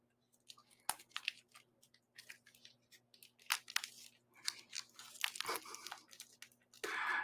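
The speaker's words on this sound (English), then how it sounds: "You're watching a guy unwrap a watch" Packaging from a Zodiac Sea Wolf GMT watch being unwrapped, with a quiet, close run of crinkling, tearing plastic and paper rustles in irregular bursts, ending in a louder crackle.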